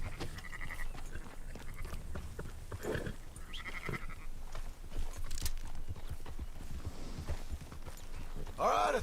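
Sheep bleating and horse hooves clip-clopping in Red Dead Redemption 2, with rhythmic hoofbeats and scattered bleats under intermittent talk, ending in a louder bleat near the close.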